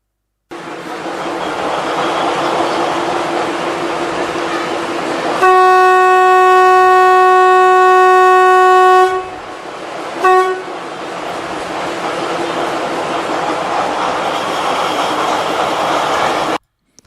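A train rumbles steadily past with a loud, sustained multi-tone horn blast midway, followed by a brief second toot, then continued rolling noise.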